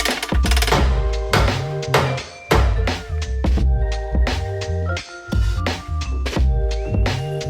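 Sharp, repeated knocks from a tool tapping down a large dent on a Tesla body panel during paintless dent repair, struck in an uneven rhythm of close, loud taps over steady background music.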